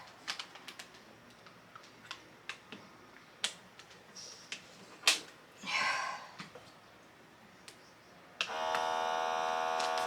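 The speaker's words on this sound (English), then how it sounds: "it is vacuuming" Scattered sharp clicks and taps lead into a Temu vacuum bag sealer starting its pump, which sets up a steady, buzzing electric hum for the final two seconds, with a brief hiss midway.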